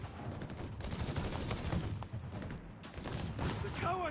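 Machine gun fire in the Company of Heroes 3 game, rapid rattling bursts mixed with dull thuds and booms in a distant, fairly quiet battle, with a voice commenting over it.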